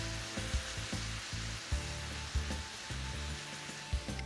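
Chicken sizzles on a grill, basted with homemade barbecue sauce, a steady frying hiss broken by regular soft thumps and clicks, close and alone.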